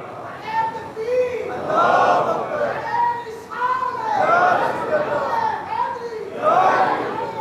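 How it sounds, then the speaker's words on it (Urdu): Devotional religious gathering where a large crowd chants slogans and praises in unison, with swelling waves of many voices rising and falling in repeated phrases, loud and continuous throughout. "نعرے بھی لگا رہے ہیں، سبحان اللہ بھی کہہ رہے ہیں"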